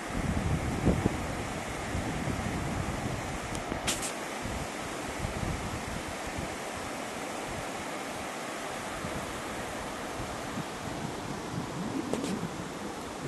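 Small river rapids on a clear, clean tropical river in Mato Grosso: a steady, broad rush of flowing water with wind buffeting the microphone, a few faint ticks over it and no voices.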